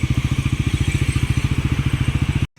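A Bajaj Pulsar NS400 motorcycle idles in neutral with a steady, rapid thumping pulse, loud and close, and no voices over it, until it cuts off abruptly near the end.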